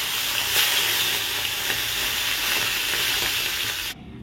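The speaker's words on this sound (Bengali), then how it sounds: "আর এখানে কড়াই বসিয়ে দিয়েছি মাছ ভাজবো" Fish sizzling in hot oil in a wok, an ilish frying for a home breakfast: a steady, loud, close hiss with crackling that runs unbroken and then cuts off abruptly near the end.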